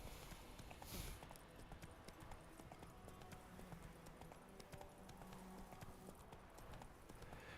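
Roach the horse's hooves in The Witcher 3 clip-clop steadily and quickly across ground throughout, mixed with other game ambience and small clinks.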